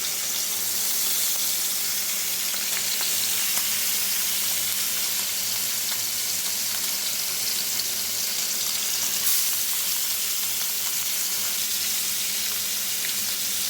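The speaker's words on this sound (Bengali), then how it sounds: "মাছটা কড়াভাবে ভাজবো না, হালকা করে ভাজবো।" Hilsa fish pieces fry lightly in oil in a pan, giving a steady, close, continuous sizzle with fine crackling that stays even from start to end, with no talk.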